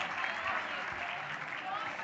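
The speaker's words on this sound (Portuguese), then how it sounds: "Palmas para os nossos participantes." An audience at a live stage event applauds the participants, a steady wash of clapping that lasts throughout.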